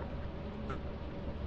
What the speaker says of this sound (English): the bees are off someone else